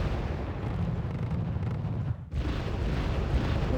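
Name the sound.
mortar explosions in Wargame Red Dragon video game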